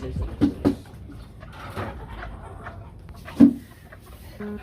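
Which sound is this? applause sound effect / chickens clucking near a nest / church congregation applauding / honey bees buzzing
chickens clucking near a nest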